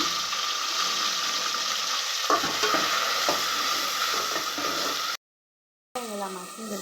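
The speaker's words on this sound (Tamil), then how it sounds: "வெங்காயம் நல்லா பொரிஞ்சிருச்சு. தக்காளியும் எடுத்து வச்சுருக்கிற வெங்காயம் நம்ம சேர்த்துக்கிறோம்" Onions and tomatoes frying in a pan, giving a steady close sizzle with stirring scrapes, then a short gap and a fresh burst of sizzling.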